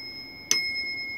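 A small bell on an antique electric bell nearly 200 years old gives one sharp metallic strike, leaving two clear ringing tones that sustain evenly afterward.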